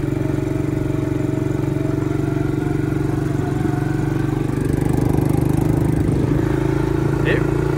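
Small Amazon-bought four-wheeler ATV engine, still being broken in, running steadily with a droning harmonic hum and some clatter, fairly loud and close throughout, with a faint voice in the background.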